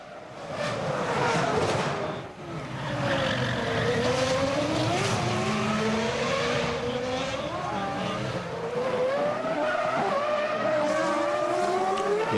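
Formula One cars at the 2001 Monaco Grand Prix practice howl past near the swimming pool section, high-revving engines rising and falling as they shift through the turns, with a commentator talking over it.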